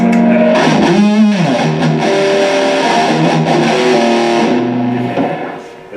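An electric guitar played through a distortion pedal rings loud and sustained, with a bending, wavering note early on and thick held chords that fade out at the end.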